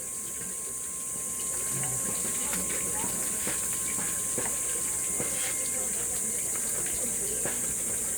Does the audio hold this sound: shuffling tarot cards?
no